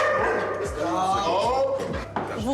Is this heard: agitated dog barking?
yes